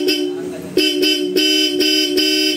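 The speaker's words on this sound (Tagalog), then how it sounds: "Okay, loud horn." A loud Bosch Europa electric horn fitted to a Honda ADV160 scooter sounds a series of bright, harmonic blasts, one long opening toot followed by several short repeated honks, close and steady.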